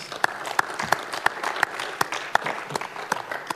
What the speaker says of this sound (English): give applause to the presenters.